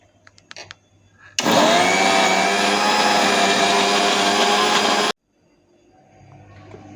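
A kitchen blender purées mango with cardamom powder for a homemade mango shake, a loud steady whirring roar that starts abruptly and runs for several seconds before cutting off sharply.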